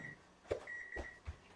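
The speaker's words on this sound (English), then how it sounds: "Eek, eek, eek, timer." A kitchen timer beeps faintly in the background, a few thin, high tones, with soft knocks and room noise around them.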